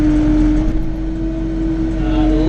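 A TYM T654 tractor engine held at steady revs on the foot throttle, a loud, close, constant drone with a strong low hum throughout.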